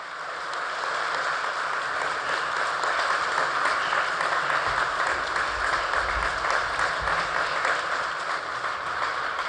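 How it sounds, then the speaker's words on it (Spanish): A crowd applauds steadily after a speech by Pope Francis at a meeting with authorities in Baghdad, a dense wash of clapping that holds evenly throughout, heard from within the room without speech. "Inmediatamente el aplauso."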